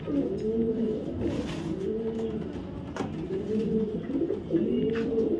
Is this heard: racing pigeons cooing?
yes